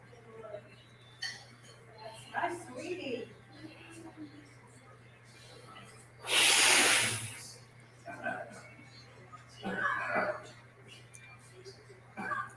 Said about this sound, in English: How giant that dab was when I started blowing the smoke out?